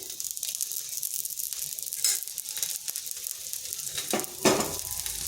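Egg mughlai paratha fries in a spoonful of oil after being flipped, giving a steady close sizzle throughout with a few louder crackling bursts and faint utensil scrapes.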